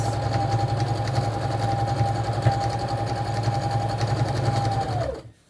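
A sewing machine runs steadily for about five seconds, stitching trim down onto fabric for a fish body and eye craft piece, then winds down and stops.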